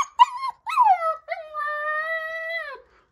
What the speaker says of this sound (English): You going to howl for us?